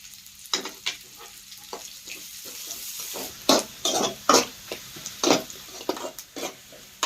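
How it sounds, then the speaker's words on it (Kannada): Finely chopped onions frying in oil in a pan for biryani: a continuous sizzle broken by a series of loud, close spatula scrapes and stirring strokes that quicken toward the end, with no talking. "ನೋಡಿ ಉಳ್ಳಾಗಡ್ಡಿ ಏನೈತಿಲ್ಲ ಈ ರೀತಿ ಚಲೋ ತಂಗಿ ಫ್ರೈ ಮಾಡ್ಕೋಬೇಕ್ರಿ"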